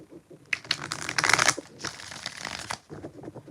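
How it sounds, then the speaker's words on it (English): Tarot cards are shuffled by hand, a rapid flurry of riffling, slapping card noises in bursts, loudest in the first half and continuing in softer clatters, with no speech. "4 shuffles"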